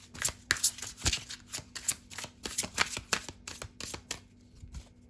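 A deck of tarot cards is shuffled by hand in quick, irregular riffling bursts, close and fairly quiet, with a faint steady hum underneath and no talking.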